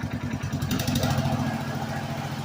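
The small gasoline engine of an EGN EG800 remote control lawnmower runs close by with a steady, buzzing drone and a slight rise as throttle is added.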